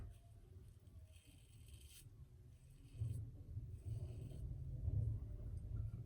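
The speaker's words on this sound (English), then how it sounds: "Forget the rumbling out there, the trash men are here." A low, steady rumble of a garbage truck outside, muffled and constant, with faint scraping and clattering noises on top.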